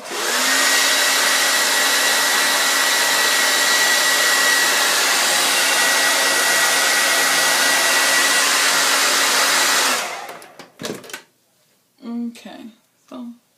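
A hair dryer blows steadily and loudly for about ten seconds while heating a quick-weave hair piece, then cuts off, followed by brief speech.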